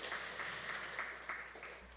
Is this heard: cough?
no